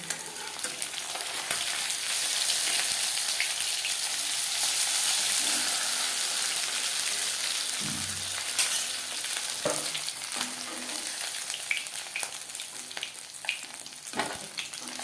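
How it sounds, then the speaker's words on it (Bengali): Katla fish pieces frying in oil, a steady loud hissing sizzle up close, with a few knocks and bubbling pops as the pieces shift in the pan, no voices. "মাছ বেশ ভালো করে ভাজা হয়ে গেছে"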